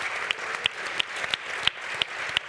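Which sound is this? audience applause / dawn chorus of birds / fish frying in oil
audience applause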